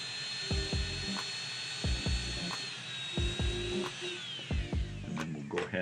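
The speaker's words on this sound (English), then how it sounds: "This is a Brasseler or any fine diamond flame-shaped burr." Fine diamond flame-shaped dental burr on a high-speed handpiece polishing a tooth: a thin, steady whine that dips slightly in pitch, under repeated soft clicks and taps, fairly quiet.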